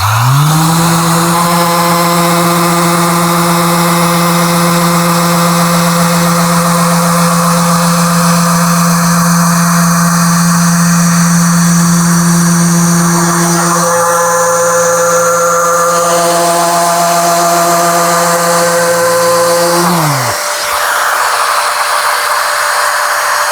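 An electric power sander runs on a wooden board fitted with 80 grit sandpaper, a loud, steady motor whine close by. Its pitch drops slightly partway through, then it winds down and stops near the end.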